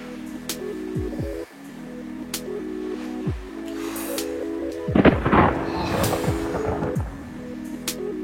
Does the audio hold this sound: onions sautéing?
no